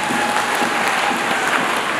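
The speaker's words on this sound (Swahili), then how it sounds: "Tujipigie makofi wenyewe." A political rally audience applauds itself at a gathering for parliamentary and ward council hopefuls, a steady wash of dense clapping heard throughout at even loudness with no voice over it.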